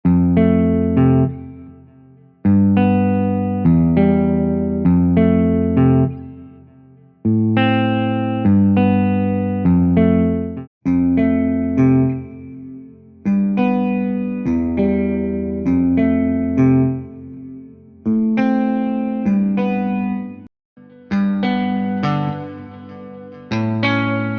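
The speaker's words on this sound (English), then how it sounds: "Ample Guitar Semi-Hollow is modeled on a Gibson ES335" Ample Guitar Semi-Hollow plugin, modeled on a Gibson ES335, playing a run of distorted electric guitar chords, each struck hard and left to ring and fade before the next, loud and alone with no talking.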